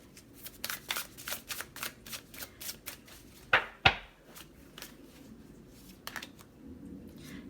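Tarot cards being drawn and shuffled from a deck for a pick-a-card reading, a run of quick papery flicks and slides, then two sharper snaps close by, followed by quieter handling.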